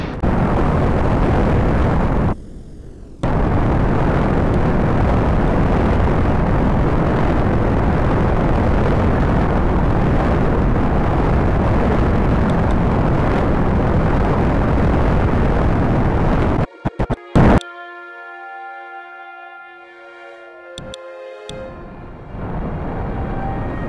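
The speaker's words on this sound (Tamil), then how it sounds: "4 3 2 1 ராக்கெட்டை மேலே அனுப்பலாம்." Rocket launch in Space Flight Simulator: a loud, steady roaring engine rumble that holds for about fifteen seconds, then cuts off abruptly and gives way to quieter tonal game sounds.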